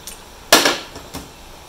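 One loud metallic strike rings out, followed by a couple of lighter taps, like hammering on metal panels of a 1973 Volkswagen Bus, with no voices.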